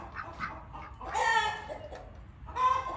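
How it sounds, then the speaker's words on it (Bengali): A hen clucks close by in a farmyard, a few short throaty clucks in uneven bursts over faint background noise, with no talking. "একটু ডিম পড়ছে মুরগি,"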